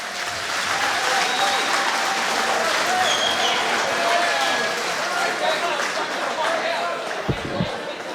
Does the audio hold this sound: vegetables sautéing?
no